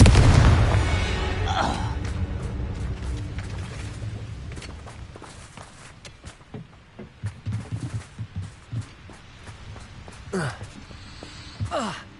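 A Confringo fire blast spell from Hogwarts Legacy bursts loudly at the start, then fades into scattered lighter impacts and crackles, with more bursts toward the end.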